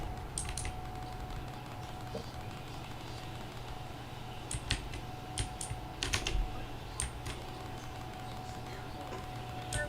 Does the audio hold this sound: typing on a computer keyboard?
yes